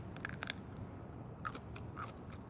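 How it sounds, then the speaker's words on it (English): A few sharp crunchy bites of raw radish at the start, then quieter crunching and chewing, close up against a low background hum. "Do you hear that crunch?"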